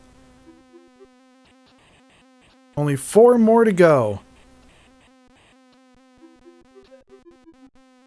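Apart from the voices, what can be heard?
bee buzzing in Commodore 64 game Smack Those Crazy Weeds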